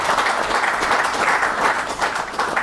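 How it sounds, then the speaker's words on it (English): Dense, continuous applause from a large audience fills the hall at the 2024 Zimbabwe Capital Markets High Schools Quiz Competition, a loud, even wash of many hands thanking the sponsors and partners. "may you help me to thank our sponsors, our partners for this, maybe by just giving them a round of applause"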